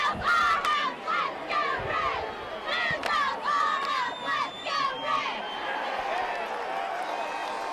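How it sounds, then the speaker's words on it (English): Students at a high school football game between Steubenville Big Red and Massillon Tigers let out a loud, sustained crowd cheer, with overlapping shouts and yells rising and falling in waves before easing into a steady roar. "Take us out with a cheer."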